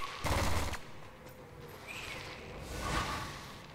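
Gunfire from shooting an enemy in the video game Halofall, with a short, loud burst of rapid shots at the start and then fainter firing and whooshes.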